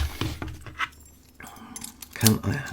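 Keys jangle up close during work on a Federal Lock HS40P padlock, with a bright metallic rattle that peaks sharply near the end amid scattered handling clicks and some talking.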